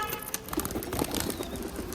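Pigeons kept at a friend's house coo in soft, low bursts at close range, with a few faint flutters and scattered chirps over a muffled background.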